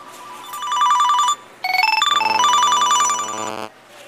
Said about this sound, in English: my track phone rang